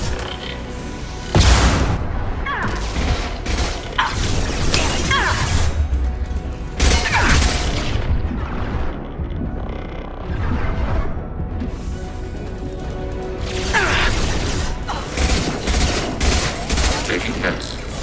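Gunfire volleys and explosions from combat in Mass Effect 2, with bursts of shooting and heavy blasts recurring loudly through the scene over a constant battle din, speech mixed in.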